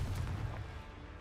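Fiery Confringo blast spell cast in Hogwarts Legacy, a heavy booming burst with a deep low rumble that swells at once and fades over about a second, loud and close with no voices.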